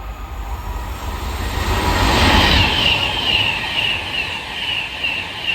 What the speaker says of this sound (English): Soon to come charging our way through now will be Advance West Coast service going from Glasgow Central to London Euston.